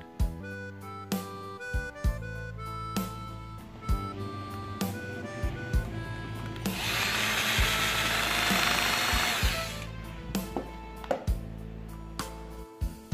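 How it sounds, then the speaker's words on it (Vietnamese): Small screw being driven back into the main circuit board of a Sony radio during repair, a series of close ratcheting clicks and taps with a louder, denser burst of mechanical rattling in the middle, no talking. "Bây giờ mình bắt lại cái con ốc hồi nãy trên cái men chính đó các bạn."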